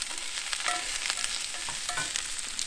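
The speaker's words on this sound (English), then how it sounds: "I'm a bit worried about the garlic on the bottom here, Nick. Just keep stirring it." Garlic frying in a pan on a Big Green Egg ceramic grill is stirred with a spoon, giving quick scraping clicks over a steady hissing sizzle.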